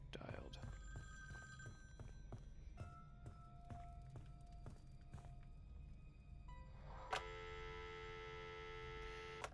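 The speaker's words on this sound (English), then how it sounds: "let's get these phone numbers dialed." Telephone dialing in the Friday the 13th video game, heard as a series of short electronic tones stepping through a number, with a sustained ringing tone near the end over faint background hum.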